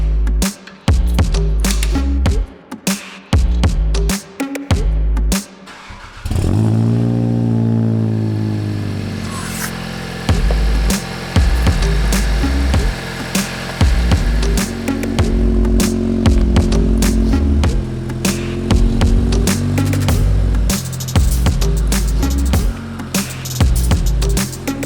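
A tuned Volkswagen Golf GTI TCR at Stage 2, running with no rear silencer, snarls loud and close. It revs up hard, then settles into a raw, crackling drone broken by sharp pops and clicks.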